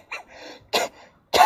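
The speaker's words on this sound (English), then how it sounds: "Got a little something stuck in my throat and I had a hard time trying to cough it out." A person coughs three times, each burst short and harsh, trying to clear something stuck in the throat, with brief pauses between the efforts and no talking.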